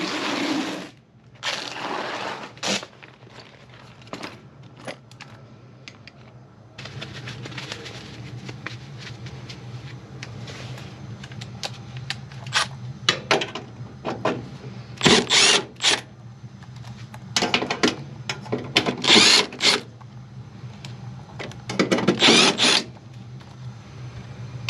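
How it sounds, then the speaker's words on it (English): Screws are driven out of a furnace inducer motor in short, separate bursts of a power driver whirring and grinding, growing louder and more frequent toward the end against a faint background hum. "then we just have to work on getting these screws out"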